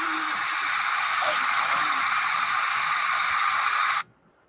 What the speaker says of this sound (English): that's Lake Fairy freaking frying up bacon right now